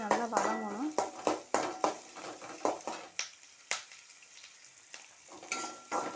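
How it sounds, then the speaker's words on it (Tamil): Onions sizzle quietly in a pan while a utensil scrapes and clinks through repeated stirring strokes, close and fairly soft, with a voice talking over parts of it. "வெங்காயம் நல்லா வதங்கணும்."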